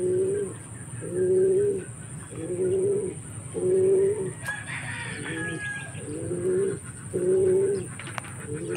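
Young racing pigeons cooing close by in a steady rhythmic series of soft throaty coos, about one each second, with faint clatter in the background.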